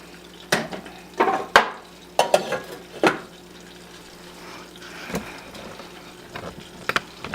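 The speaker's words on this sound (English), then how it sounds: "just stir the grits" A spoon scrapes and knocks against a pot while grits are stirred, a few sharp clattering strokes in irregular bursts separated by quieter pauses, close and fairly loud.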